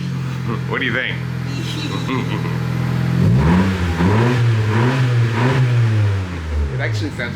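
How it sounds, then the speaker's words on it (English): A 10th-generation Honda Civic with an Invidia N1 aftermarket exhaust idles with a deep, steady rumble, then revs up loudly and holds a throaty, rising roar before easing back down. "You start this up and it's just kind of like a low, peaceful rumble."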